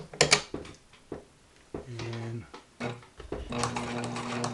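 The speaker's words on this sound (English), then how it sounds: "let's see a little stitch here. I'll just do a straight stitch" Husqvarna Viking 190 sewing machine running a straight stitch, short bursts of smooth, quiet motor hum with the needle's rhythmic whir, stopping and restarting between clicks and handling noises, close by.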